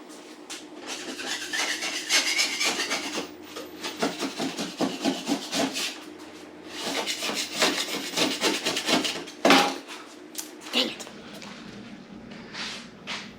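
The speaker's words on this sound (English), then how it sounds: "I've got to scrape off the glue and start sanding." Steady scraping and rasping on a wood countertop, scraping off glue and sanding, rhythmic back-and-forth strokes with short pauses, close by and fairly loud, no talking.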